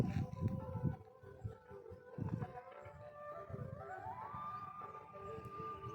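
Vehicle passing on a road beside a plot venture near Gorlavaripalem village, Guntur; faint rumbling with a rising tonal whine as it goes by, fairly distant, no speech.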